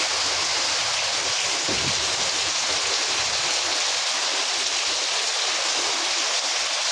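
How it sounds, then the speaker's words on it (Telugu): Steady winter rain falls in a dense, even hiss that holds without a break, with no voices. "ఫ్రెండ్స్ చూడండి ఫ్రెండ్స్ వర్షం"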